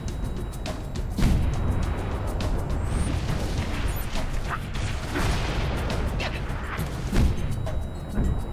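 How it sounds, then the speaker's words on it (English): In Halo, an elite fires a fuel rod cannon, setting off a run of loud, close booming explosions over dense, continuous rumbling and clatter from the battle. "Oh, it's an elite with a drill rod cannon."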